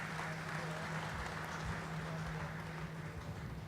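Steady, moderately loud applause from a mushaira audience in Doha welcoming a poet to the stage, sustained throughout with a low hum underneath and no speech.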